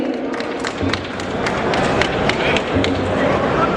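Audience applause at a Hindi-language foundation-stone ceremony for an agricultural produce trade building, a dense, steady wash of many hands clapping with crowd murmur, fairly loud and continuous throughout.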